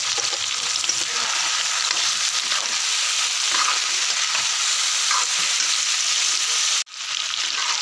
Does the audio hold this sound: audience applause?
no